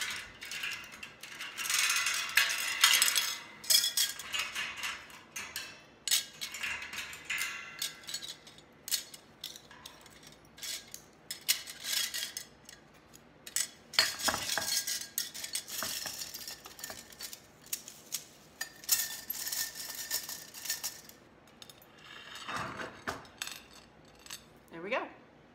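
Forks and spoons clink and rattle as they are handled and set down in a kitchen, a quiet, uneven run of metallic taps and jingles with pauses between bursts.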